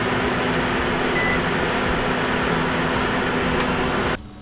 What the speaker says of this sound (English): Put this fan on. And for good measure, we will turn on the microwave.